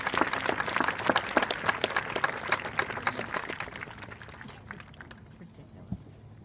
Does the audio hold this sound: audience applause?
yes